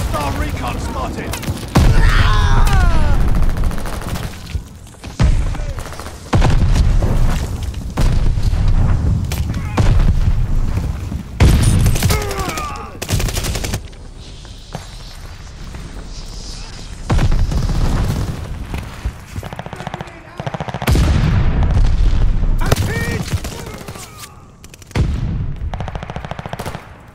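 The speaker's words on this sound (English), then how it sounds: "Enemy glide bomb coming in hot!" Heavy explosions and bursts of gunfire from glide bombs and mortar shells in a combat video game, loud booms in clusters with gaps between them, while game voices call out over the action.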